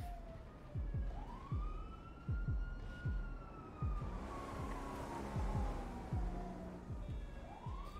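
Police sirens wail and sweep up and down in a video game car chase, layered over repeated sharp thumps and a rumbling engine, loud and continuous with no talking.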